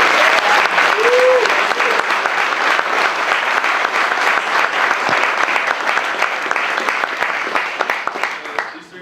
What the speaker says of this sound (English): You guys mind standing up just so everyone can give you a round of applause.